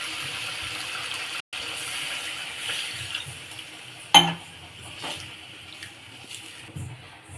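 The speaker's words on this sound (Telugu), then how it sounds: "నేనైతే ఒక గ్లాస్ పోస్తున్నా." Water poured from a glass into a pot of cooked chicken curry gives a steady, close wash of liquid noise, broken by a brief sharp knock partway through.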